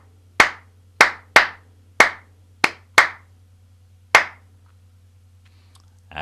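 Sharp single hand claps ring out one at a time in a steady count, seven in close succession, then a pause before a final clap at the very end, crisp and near over a low steady hum.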